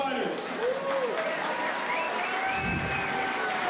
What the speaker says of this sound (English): let's have a round of applause for both of these fighters